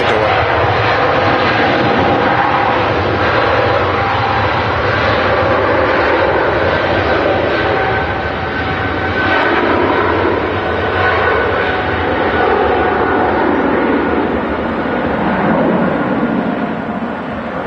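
Qatar Airways Boeing 777 departing Manchester Airport, a powerful continuous jet roar at close range that swells and holds without letup, alone with no talk.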